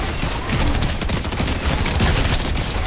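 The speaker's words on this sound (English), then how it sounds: "Being shot at from over that way." Dense, rapid gunfire fills a video game firefight, a loud continuous barrage of overlapping shots with no pauses, close and harsh from start to end.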